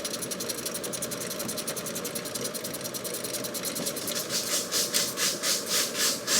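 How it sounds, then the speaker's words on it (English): A power tool tightens a damaged bolt at high speed, giving a loud, continuous buzzing whir with rapid ratcheting pulses up close. The pulsing grows stronger and choppier toward the end. "Tightening mode engaged. Super high speed, bolt actuation."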